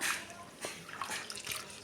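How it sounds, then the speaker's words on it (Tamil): Ration rice being washed by hand in bore water, with wet sloshing, squeezing and splashing in an irregular rhythm of a few bursts at close range, no talk over it. "போர் தண்ணி தான் ஊற்றி நல்லா கழுவுறேன் பாருங்கள் நல்லா அழுத்தி கழுவணும்"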